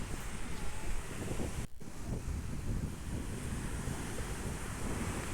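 Strong wind roars across the microphone over the constant wash of sea waves breaking nearby on the coast near Chennai, loud and unbroken throughout.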